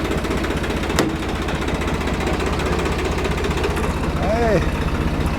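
A Swaraj tractor's diesel engine has just started and idles with a steady low chugging rumble, close by, while people talk over it.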